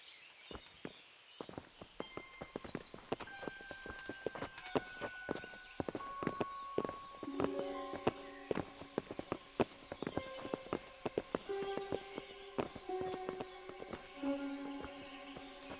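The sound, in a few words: horses' hooves in video game Kingdom Come: Deliverance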